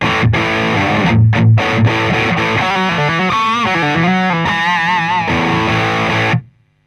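An electric guitar with a P90 pickup plays distorted, sustained notes and chords through an ISP Decimate Micro noise gate, loud and up close, then cuts off cleanly to near silence at the end.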